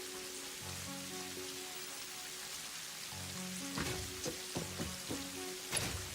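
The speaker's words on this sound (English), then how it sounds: "Oh, it's raining! It's raining! I love the rain in this game." Rain falls in the factory-building video game Satisfactory, a quiet steady patter with a few sharper drops and faint rumbles near the end.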